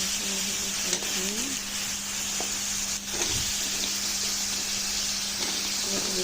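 Fish and papaya stir-fry in a hot pan, a steady close sizzle and hiss running throughout with a few faint stirring scrapes.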